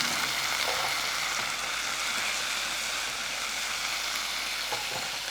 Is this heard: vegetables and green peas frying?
yes